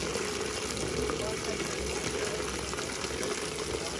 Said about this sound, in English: We're still flowing cold water.